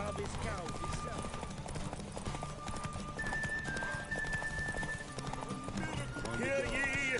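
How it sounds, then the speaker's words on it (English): Horse hooves clip-clopping in a derby race in the video game The Witcher 3, with a whinny and a voice talking over the steady hoofbeats and background music. "The final of the Erasmus Vegelbud Memorial Derby is over"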